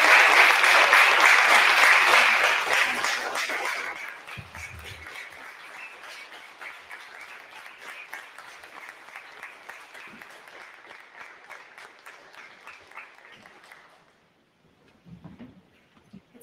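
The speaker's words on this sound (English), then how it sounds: "I want to give a secondary round of applause to Pat Wilson Phineas" An audience applauds Pat Wilson Phineas at an event, the clapping loud and dense at first, then thinning to scattered claps that fade out and leave a few last sparse claps near the end.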